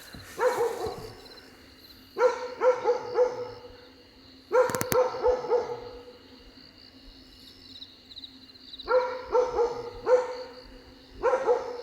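Dogs barking at night in a village in the jungle where a leopard has entered: several bursts of repeated barks, fairly distant, separated by pauses, over a steady chorus of crickets and insects.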